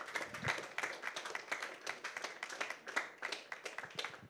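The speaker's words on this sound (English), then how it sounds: "A huge round of applause, everybody." An audience at a film teaser and poster launch event claps with quiet, fairly sparse handclaps in an uneven patter, each clap distinct rather than blended into a roar.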